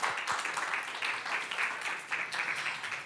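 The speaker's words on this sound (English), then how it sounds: "Round of applause for Victor." An audience at a holiday healthy-recipes event applauds with moderate, somewhat uneven clapping that comes in waves for a few seconds.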